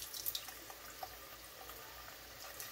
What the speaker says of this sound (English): You're going to put it in the bowl. And you're going to rinse your butter.